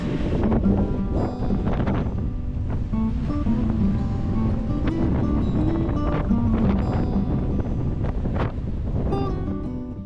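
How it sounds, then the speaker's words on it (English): Strong wind buffets the microphone on a hiking trail in Torres del Paine, Patagonia, a loud continuous roar with gusting rumbles and flutter that never lets up. "Look how strong that wind is."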